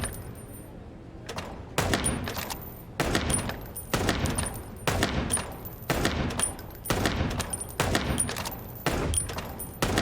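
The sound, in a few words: gunfire from shooting in video game Chicken Police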